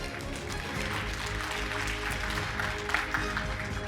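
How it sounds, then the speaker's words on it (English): Steady crowd applause, a dense wash of clapping that holds at an even level for several seconds. "Let's give Ron a round of applause."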